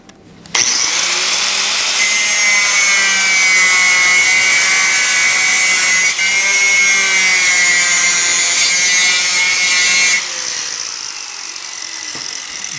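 An angle grinder cuts off excess metal pipe at the edge, a loud continuous high-pitched whine with grinding noise that holds steady for about ten seconds, then drops as the cut ends and the disc winds down.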